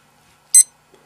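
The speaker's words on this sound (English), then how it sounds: "Start pause button will start and pause the timer, of course, but there'll be an audible beep" A poker dealer button with a built-in blinds timer gives one short, sharp high-pitched beep from its start/pause button, loud and isolated against near silence.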